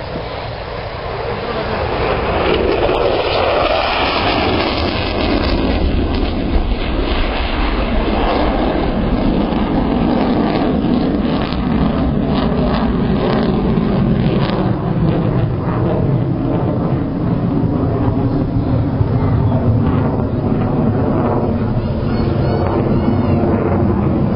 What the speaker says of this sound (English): Fantastic last sight of the Typhoon as he passed that little cloud.